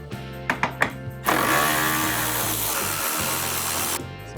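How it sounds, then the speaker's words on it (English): A few sharp clicks, then a loud continuous whir for about three seconds as a 10mm socket driver unscrews bumper fasteners on a 2024+ Toyota Tacoma, close up with no talking. "So what we're gonna do is we're gonna unscrew these real quick."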